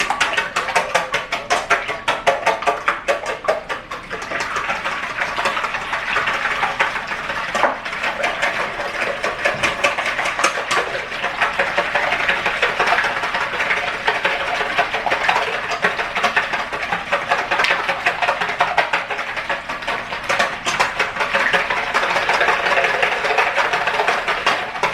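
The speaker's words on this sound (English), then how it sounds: "I have 8 eggs in this bowl that I'm going to whisk up" A whisk beats eight eggs in a bowl for a breakfast-puff batter, a steady rapid clatter of metal against the bowl that keeps going without pause at close range, with no voices.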